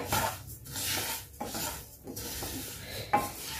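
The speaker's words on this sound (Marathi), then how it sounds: "आता आपण हळूहळू तीळ भाजून घेऊ।" Sesame seeds dry-roasting in a pan over a gas flame while being stirred, giving soft rhythmic scraping and rustling with a faint sizzle, quiet and close, with no voices.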